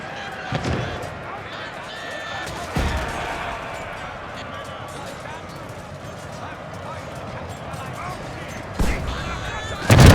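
Cuirassier cavalry in Pike & Shot Total War fire their pistols while locked in melee during the 1641 Battle of Preßnitz: a few loud, widely spaced shots cut through a constant roar of battle, with a voice talking over it.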